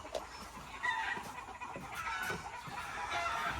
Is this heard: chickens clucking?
yes